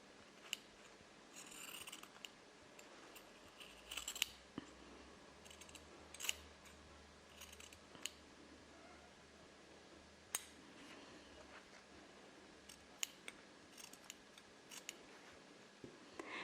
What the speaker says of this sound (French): En coupant, je vais donc aiguiser mes lames.